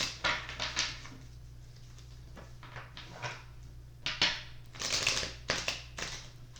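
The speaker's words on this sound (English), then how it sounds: "I just want you to see this as I shuffle" Tarot cards being shuffled by hand in a quiet room, with soft irregular riffles and flicks coming in short bursts and pauses, close and fairly faint.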